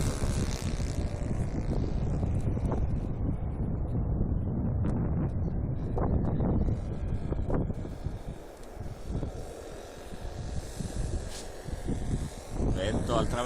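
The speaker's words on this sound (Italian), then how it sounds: "Vento al traverso sulla pista." A crosswind blows across an RC model airfield runway near Ancona, a loud, continuous rushing roar that buffets the microphone for the whole stretch and swells and eases in gusts.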